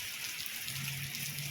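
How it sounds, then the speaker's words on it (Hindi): Rain falling in Abu Arish, Jazan, Saudi Arabia, the first rain in about a year, makes a soft, steady patter and hiss throughout, with a faint low hum underneath. "बारिश तकरीबन 1 साल के बाद बारिश आई है।"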